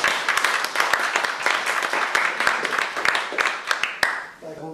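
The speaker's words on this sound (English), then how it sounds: "Applause." An audience at an academic colloquium bursts into applause for a guest speaker, sharp claps ringing out steadily and thinning toward the end.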